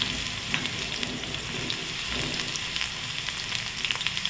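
Garlic and cumin sizzle in hot oil in a kadhai, a close steady frying hiss with small pops and crackles throughout.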